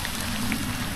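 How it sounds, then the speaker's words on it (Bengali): Heavy rain pouring down outdoors, a dense, even patter and hiss across one continuous second, close and fairly loud with no voices over it. "এই দেখুন এখানে কিন্তু এখন প্রচুর বৃষ্টি নেমে গেছে।"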